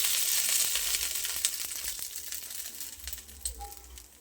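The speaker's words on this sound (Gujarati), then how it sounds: "આપણે વઘારિયામાં તેલ લઈશું, રાઈ ઉમેરીશું, તલ ઉમેરીશું, મીઠા લીમડાના પાન ઉમેરીશું. આ વઘારને આપણે ઢોકળા પર રેડી દઈશું." Hot oil tempering with mustard seeds, sesame and curry leaves is poured over sandwich dhokla, bursting into a loud sizzle that crackles and gradually fades, with a few sharp pops along the way.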